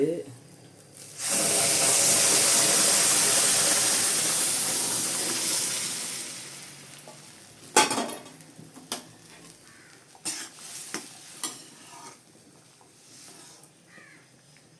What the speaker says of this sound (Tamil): வெந்நீர் இங்கே கொதிச்சிட்ருக்கு.